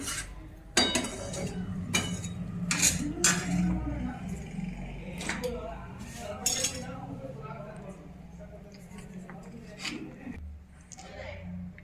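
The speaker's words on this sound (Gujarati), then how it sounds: "તો થોડીક વાર આપણે આવી રીતે મિક્સ કરી ને શેકી લઈ." A metal spoon stirs flour roasting in a hot pan for Gujarati katlu paak, giving irregular clinks and scrapes against the metal over a low background, with a voice speaking at times.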